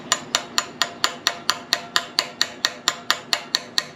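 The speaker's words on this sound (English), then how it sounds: "we're not putting any real pressure on it, we're just letting the hammer do the work" A hammer taps a part into a Fiat 124 rear axle during a rebuild, giving about sixteen sharp, evenly spaced metallic strikes at a steady rhythm, close and clear with no talking.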